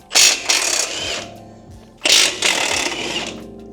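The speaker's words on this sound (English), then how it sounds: "I'm going to start taking off these bottom strut bolts." Bottom strut bolts coming off a Ford F-150 with a power tool: two loud, close bursts of buzzing rattle, each about a second long, separated by quieter pauses.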